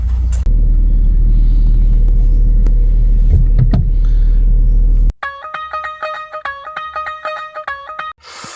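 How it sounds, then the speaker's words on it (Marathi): A car pulling out of a parking spot as a novice driver practices, heard as a loud, steady engine rumble close by for about five seconds, then cutting off abruptly as a repeating electronic chime takes over. "गाडी बाहेर घ्यायची जरा प्रॅक्टिस करून घेतोय आम्ही"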